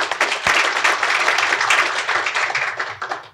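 Audience applause welcoming a speaker at a natural gas supply forum, a dense, steady wash of clapping from many hands that swells and then begins to fade.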